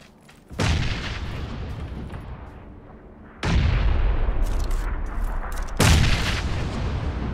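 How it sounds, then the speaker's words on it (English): Gunfire and explosions in the battle royale game PUBG: three sudden loud blasts, each followed by a long rumbling roar and sustained noise, close and heavy, with no talking. "And I'm gonna shoot from behind now."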